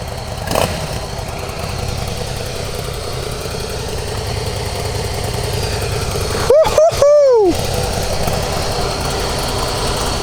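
A stock 2017 Harley-Davidson Fat Boy S idles with a steady, moderate engine rumble, joined by a brief rising whine near the end, continuous and fairly close.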